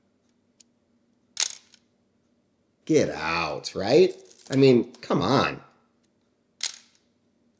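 Two crisp camera shutter clicks, close and sharp: one before and one after a brief stretch of someone talking.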